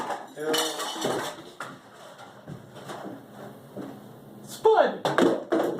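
Dishes and cutlery clatter and clink as restaurant dishwashers in Wisconsin toss plates to each other and catch them, with sharp bursts of impact near the end, heard under ongoing talk between the workers.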